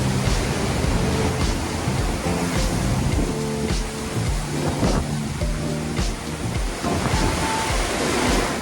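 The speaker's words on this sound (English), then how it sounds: "So there's chop on the waves, but the waves are a lot lower." Choppy ocean waves washing around a ship at sea on a transatlantic crossing, a constant broad rushing roar mixed with heavy wind buffeting, with no speech.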